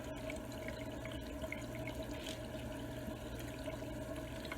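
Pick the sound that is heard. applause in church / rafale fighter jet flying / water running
water running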